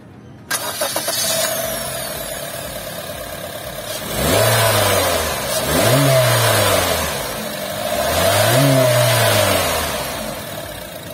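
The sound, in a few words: Honda BR-V L15Z 1500cc engine starting and revving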